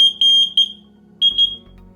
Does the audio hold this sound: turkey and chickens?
no